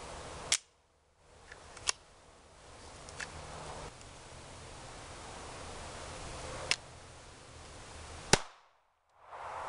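A pistol fires during a training drill after a malfunction is cleared, a few sharp isolated shots spaced seconds apart over a steady background hiss, the last one loud and followed by a brief silence.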